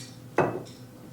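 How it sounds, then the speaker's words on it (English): A spoon scrapes and clinks once against a pot of venison Bolognese sauce during stirring, a single short, close metallic stroke followed by a faint second touch. "I'm going to stir this in."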